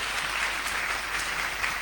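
An audience at a youth Q&A session applauds, a steady, dense clapping that stays at an even level with no speech over it.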